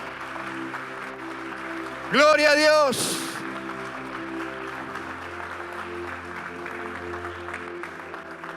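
A burst of loud applause and cheering at a Sunday church service erupts over a steady musical backing, lasting about a second before fading back under the music.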